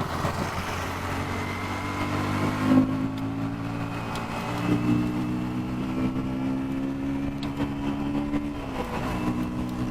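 A KTM Duke 160 motorcycle cruising in fourth gear on a city ride hums steadily at moderate revs, the engine note swelling briefly a few times, close and continuous with no talk.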